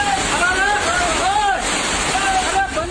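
Floodwater rushes through streets in a hilly region of India after torrential rain, a constant roaring wash of water with a voice speaking over it.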